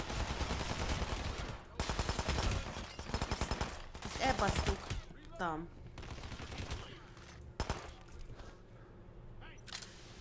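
Gunfire in Hitman: Absolution crackles in rapid bursts and fusillades, loud and close, broken by short pauses and mixed with game sounds; someone speaks briefly over it.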